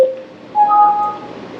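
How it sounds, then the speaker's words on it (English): Wireless outdoor speakers with RGB lights pairing, giving a short electronic chime: a brief tone followed by a rising two-note beep, clear and close in a quiet room. "So I think that noise is them pairing together."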